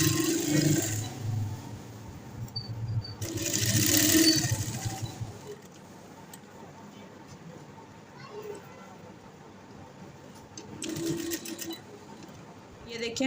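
A sewing machine stitches boot piping onto a slit neckline in short, loud whirring bursts, with a voice talking between and over the runs.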